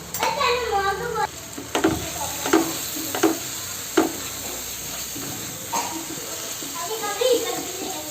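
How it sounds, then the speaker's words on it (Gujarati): Tomato and onion masala with red chili powder, coriander-cumin powder and garam masala sautés in oil for a corn curry, a steady sizzle broken by spatula scrapes while people talk over it. "તેલ છૂટું પડે ત્યાં સુધી સાતળવાનું છે."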